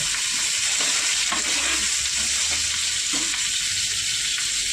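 Lavangi green chillies fry in hot oil with garlic, cumin and mustard seeds, giving a loud, steady, close sizzle with faint stirring scrapes underneath. Nobody speaks.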